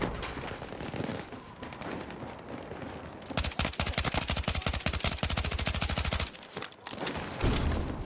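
SGX submachine gun in the Battlefield 6 video game firing short rapid bursts, dense and loud, with brief pauses between volleys and other gunfire and battle noise behind it.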